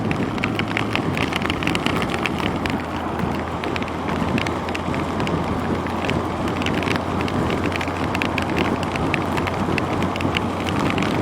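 Heavy rain falls while a 2006 Yamaha FJR1300A motorcycle is ridden on a Melbourne ring road. Constant rushing wind and rain noise sits over a low steady engine hum.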